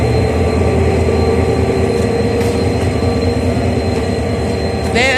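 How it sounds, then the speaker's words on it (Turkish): A loud, steady rumble of a passing freight train at Selçuk station, Turkey, with rolling wheel noise and a faint high squeal, continuous throughout. "Bir baktım yine yük treni sesi geliyor."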